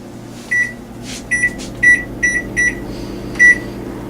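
A series of short electronic beeps from an oven keypad as its timer is set, about seven quick button presses spaced unevenly, close and clear over a low hum.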